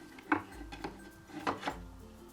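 A skewer of tomato, onion and shrimp is turned on a wooden toy barbecue, making a few soft wooden knocks and scrapes, close and quiet, with no talking.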